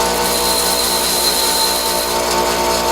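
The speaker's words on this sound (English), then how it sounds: "just throw them up here on your grinder" A bench grinder sharpens a lathe tool bit, a loud continuous whine and grinding roar that holds steady throughout with no talking.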